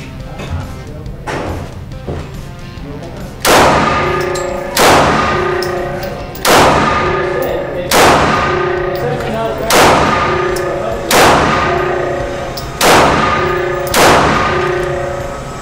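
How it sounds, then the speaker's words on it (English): Smith & Wesson M&P9 M2.0 pistol fired at steel targets: seven loud, evenly spaced shots, each followed by a ringing clang from the steel, over faint background noise and no talk. "Well, I shot better with my left hand."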